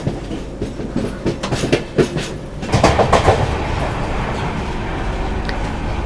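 The Falaknuma Superfast Express on the Secunderabad–Howrah route, running with new red coaches, rolls loudly and close by with rhythmic clickety-clack wheel beats over a steady rumble of the rails.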